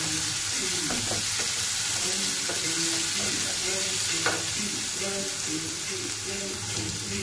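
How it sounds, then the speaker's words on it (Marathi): Dal sautéing in a pan over a high gas flame, a steady close sizzle with repeated stirring and scraping of a utensil throughout. "मोठाच गॅस असताना आपण डाळ परतून घ्यायची।"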